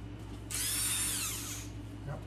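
Power tool gun working on a damaged 769 HP 409ci Ford 351 Cleveland engine, a single loud high-pitched whir that winds up sharply, holds for about a second, then slows down and stops.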